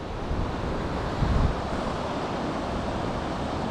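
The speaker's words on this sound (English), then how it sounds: "It's the Caspian Sea right there." Steady surf from the Caspian Sea rolls onto a shore with a constant broadband wash, mixed with wind buffeting the microphone and a brief swell in loudness.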